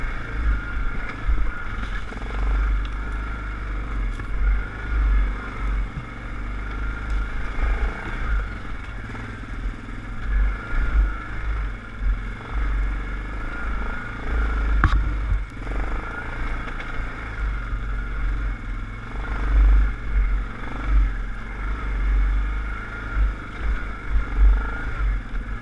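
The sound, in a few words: ATV engine riding over rough terrain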